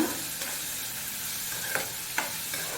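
Chopped onions sautéing in a pan for an egg masala gravy, giving a steady low sizzle with a few soft stirring scrapes and clicks, no talking.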